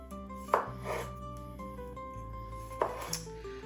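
Knife cuts salad ingredients in half on a board for an Italian grinder salad, giving two or three sharp chopping taps against a steady low kitchen hum, near and fairly faint.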